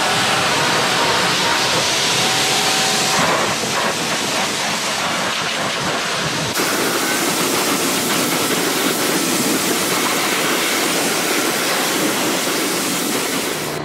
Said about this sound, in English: So I have the pressure washer here.